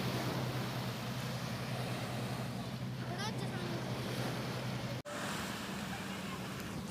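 Sea waves wash continuously on the beach at Khor Fakkan, a broad, steady surf roar mixed with heavy wind buffeting on the microphone and a brief dropout near the end.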